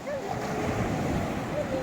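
Sea waves and wind heard from a boat at sea, a continuous rushing wash with wind buffeting the microphone, and a voice briefly audible underneath.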